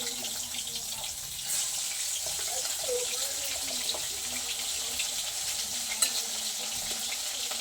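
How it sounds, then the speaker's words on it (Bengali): Leftover fish frying in a pan before being cooked with potato and tomato, a steady broad sizzle with a few faint clinks, no talking. "তো মাছটা আগে একটু ভেজে নিতে হবে"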